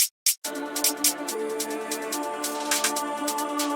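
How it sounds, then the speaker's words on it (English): A second counter snare drum sample is layered into a dark orchestral drill beat. After two short bursts, crisp snare hits bounce irregularly over a thick, sustained orchestral backing. "And now I'm gonna play another counter snare,"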